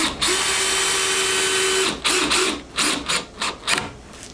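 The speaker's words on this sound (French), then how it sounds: "Et puis c'est parti, on visse." Drill driving long screws into OSB wood panel: one sustained whirring run of about two seconds, then a series of short, sharp bursts as the screw is pulsed home, close and alone.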